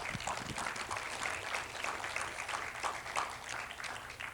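An audience applauding a woman at a spiritual talk: steady, fairly faint clapping from many hands that holds evenly throughout, sounding somewhat distant.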